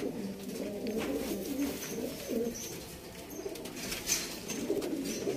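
Sialkoti pigeons, black-faced breeding pairs, coo softly in repeated rolling phrases, fairly close, with faint chirps and background ambience.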